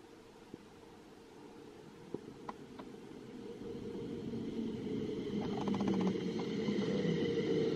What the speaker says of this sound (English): This is a train going to Crewe.